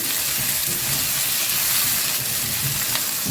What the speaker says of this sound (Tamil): வெங்காயம் கொஞ்சம் அதிகமாக போடுங்க அதுதான் வறுவல் நல்லாயிருக்கும் நல்லா வதங்கட்டும் வெங்காயம்